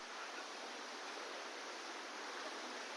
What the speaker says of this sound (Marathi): त्या ठिकाणी इतका सुंदर धबधबा आहे तो धबधबा आता आम्ही तुम्हाला दाखवणार आहोत